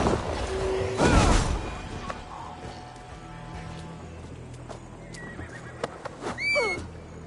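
A horse in the video game Assassin's Creed Valhalla whinnies loudly near the start, followed by quieter clattering and scattered sharp sounds, ending with another brief whinny-like cry.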